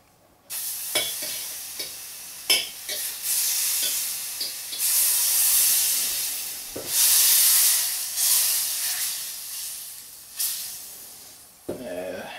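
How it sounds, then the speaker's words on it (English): Butter sizzling in a hot pan while cooking raspberry salmon, loud hissing bursts that swell and fade with stirring, plus a few clinks. "Put the butter in the pan."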